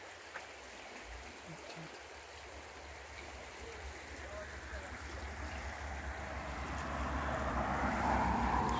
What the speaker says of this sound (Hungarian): Szép kis patak.